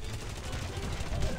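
Gunfire from the Call of Duty Mobile match on the Meltdown map with an RUS-79U rifle, heard as a dense low rumble of rapid shots running throughout with no pauses.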